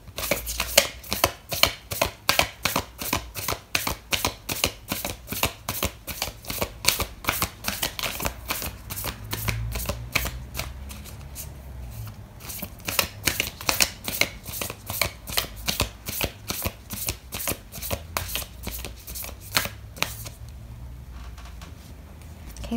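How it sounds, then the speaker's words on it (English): A deck of oracle cards being shuffled by hand, long runs of rapid riffling flicks at close range, pausing briefly midway and near the end. "Sagittarius, I am going to pull out an oracle card for you."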